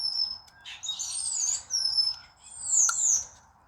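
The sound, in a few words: loud birds singing outside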